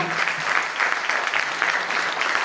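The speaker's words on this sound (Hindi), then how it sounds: "एक बार जोरदार तालियां मेरे बड़े भाई" Loud, dense audience applause fills a hall at a motivational talk on self-discipline, steady clapping from a large crowd with no voices over it.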